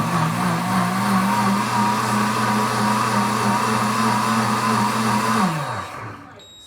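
A heavy self-cleaning blender motor whirs steadily at close range with a strong, even hum, then winds down and stops near the end.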